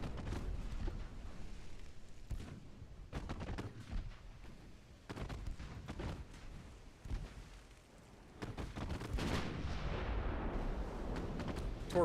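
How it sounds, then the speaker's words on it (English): Torpedo detonations and heavy naval gunfire from battle cruisers in the Ultimate Admiral Dreadnoughts naval warfare game, a loud rumbling series of booming blasts and crackling bursts that swells again near the end, with no speech. "Torpedo detonation."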